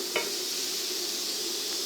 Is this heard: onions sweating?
yes